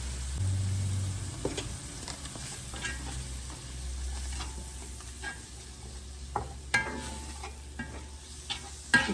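Flour stirred into frying oil for venison Salisbury steak, a soft sizzle under scattered clicks and scrapes of the utensil against the pan, with a low engine-like hum early on and no talking.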